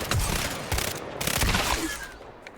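Rapid bursts of gunfire from the Corsair weapon in the video game Highguard, loud and close, as a dense, continuous fusillade.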